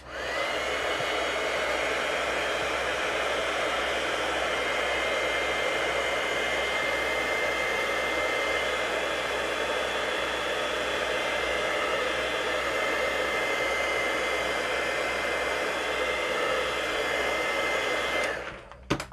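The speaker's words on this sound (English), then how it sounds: "Let's heat set this and see what we have." Heat tool blowing steadily to set embossing on watercolour tissue paper, a loud continuous close whoosh lasting nearly twenty seconds before cutting off, with no talk.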